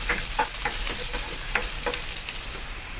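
Sliced onion frying in hot oil, a steady close sizzle broken by scraping stirs of a utensil in the pan, with no talking.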